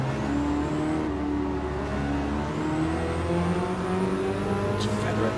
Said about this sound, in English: Just feathering the throttle through there